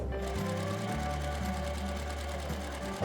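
Sewing machine stitching log cabin quilt pieces, a steady, close, continuous motor hum with rapid needle chatter throughout.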